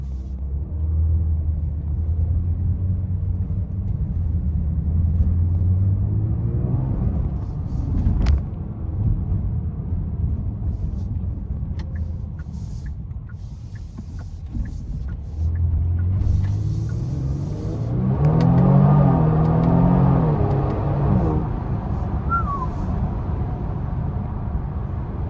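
A 2026 Genesis G70 in Sport Plus mode with stock valve mufflers accelerating, a loud low engine and exhaust drone rising in pitch, easing off, then climbing again near the end, heard from inside the car without talk.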